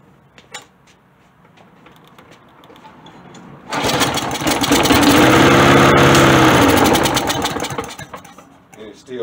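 A lawn mower engine with its choke set to low catches after a few faint clicks, revs up to a loud, steady running roar for several seconds, then fades as it dies.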